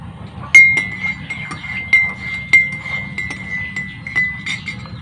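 Coffee cup set down with light ringing clinks, several bright ceramic taps in an uneven run over a soft low background, close and clear.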